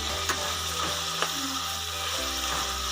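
Vegetables for an avarekalu pulao sizzle steadily in a pan as a spatula stirs them, with a few sharp scrapes and clicks against the metal over a low background hum.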